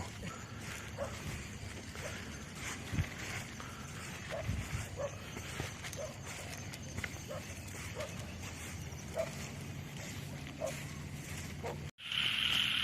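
A dog barks repeatedly at people crossing a field at night, sharp yaps at irregular intervals over a steady outdoor hum of insects and wind, somewhat distant.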